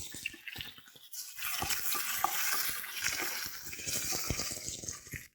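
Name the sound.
frying ginger garlic paste in a pan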